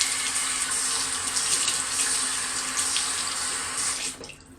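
Tap water runs steadily into a sink to wet a badger-hair shaving brush, a continuous close splashing hiss that tails off as the flow stops near the end.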